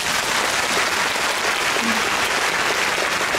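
A concert audience at a Phantom Singer all-star gala applauds with dense, even clapping that carries on without a break for the whole stretch, and no clear voices are heard.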